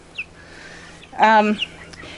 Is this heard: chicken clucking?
yes